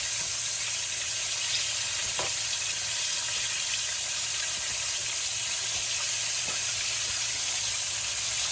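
Chicken crackles and sizzles in canola oil over a wood fire, a constant dense hiss of frying with a couple of soft clinks, close and steady with no talking.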